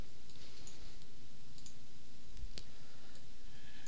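Sharp, sparse clicks from a computer mouse, a handful of separate taps spread unevenly over a few seconds against a steady background hum.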